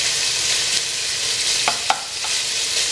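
Bacon strips frying in a pan, a loud continuous sizzle close up with a few sharp spatula clinks and stirring scrapes near the end.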